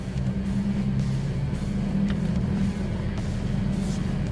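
A car with an uncapped cold air intake accelerates on the road, its engine giving a steady, fairly loud low drone with constant road rumble and no break in the sound.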